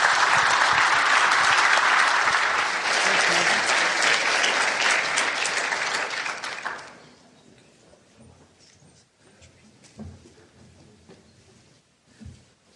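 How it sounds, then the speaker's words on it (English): Hall audience applauding a farmer and rancher panel at an agriculture research event, loud dense clapping for about seven seconds that abruptly fades to scattered claps and quiet room noise. "let's give our farmer panel, rancher panel, a big round of applause"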